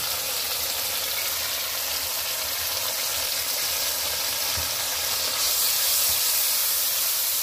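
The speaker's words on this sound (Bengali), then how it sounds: "এটাকে আমি ভালো করে কষে নেব" Cauliflower and potato curry with chilli, cumin and coriander powder sizzling in a pan after a splash of water, a steady close hiss of frying that holds evenly throughout and brightens slightly near the end.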